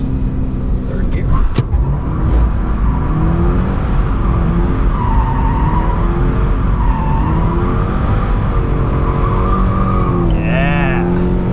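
A 2022 Subaru BRZ drifting through a corner in third gear, its engine droning steadily with rising and falling pitch and bursts of tire squeal, heard from inside the car while occupants talk over it.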